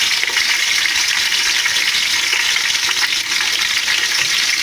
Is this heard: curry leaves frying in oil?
yes